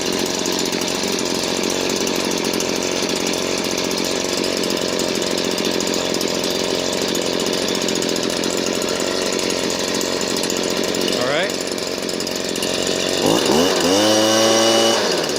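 Stihl BG56C handheld leaf blower engine running steadily at high speed during a carburetor adjustment, a loud continuous two-stroke drone that briefly dips and then revs up near the end.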